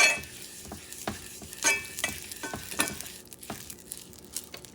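Sunflower oil sizzling in a pan with roasted rabbit pieces, a steady close frying hiss punctuated by several sharp clinks and scrapes of a utensil stirring.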